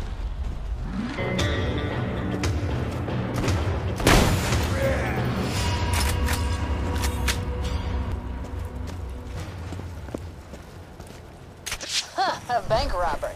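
A Skag Bile bomb detonates against a bank wall in the video game Borderlands 2, a loud boom bursting out over steady game music and ambient noise, followed by clattering debris and scattered sharp effects.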